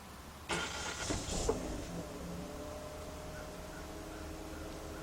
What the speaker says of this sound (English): All right, car startup.